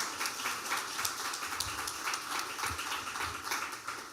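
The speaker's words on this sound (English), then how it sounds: "I'd like you to give the National Museum and Art Gallery a round of applause" Audience applause in an event hall, a steady wash of many hands clapping at moderate volume, dense and even throughout, with no talk over it.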